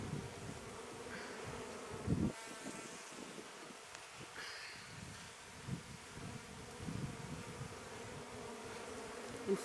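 Mountain honey bees buzz faintly and steadily around a hive during a spring inspection, a low continuous hum with light rustling and occasional handling noises close by.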